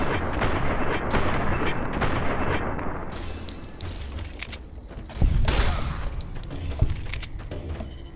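Combat in Fallout: New Vegas with frag grenades going off, a dense rattle of gunfire giving way to scattered shots and two heavy booming blasts, loud and close, with no talking.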